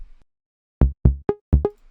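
Synth lead preset from Mofag, dry with no processing: five short plucked notes with clear harmonic overtones, the first two lower, then three brighter ones spaced about a quarter second apart, alone after a brief quiet start.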